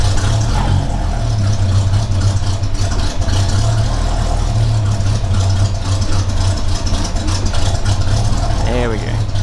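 A vehicle engine idles close by with a steady, loud low rumble throughout, with faint voices in the background.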